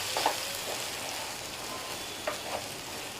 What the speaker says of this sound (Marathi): आधी हे मी थोडंसं आधी परतून घेते.